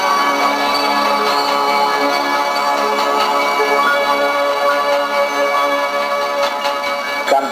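Church bells of the Cathedral of Coria ring out together in a sustained, shimmering peal, their overlapping tones droning steadily throughout.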